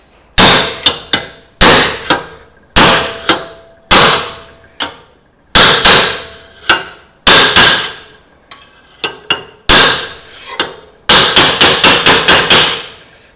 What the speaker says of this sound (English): You need a bolster chisel.